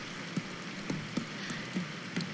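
Steady rain falling in the visual novel Symphonic Rain, a soft continuous hiss with faint drops ticking at irregular intervals, no voices.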